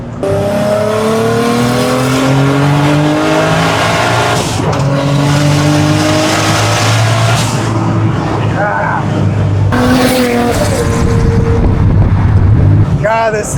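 Turbocharged 1JZ-powered Datsun 280Z pulling hard, the engine note rising through several gears with sharp shifts between, loud and close from inside the car, with faint voices now and then.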